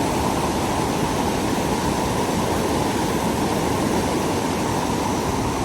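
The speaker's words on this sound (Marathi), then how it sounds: "खूप जास्त प्रेशरमध्ये पाणी आहे, खूप जास्त." Water thundering at high pressure over the Milkybar waterfall, a dense, continuous roar with no breaks, loud and close, with no voices heard.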